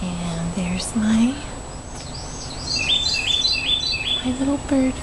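Small garden birds chirp and sing close by near a glass sugar-water feeder among ferns and gardenias, with a rapid burst of high twittering phrases in the middle and lower whistled notes throughout.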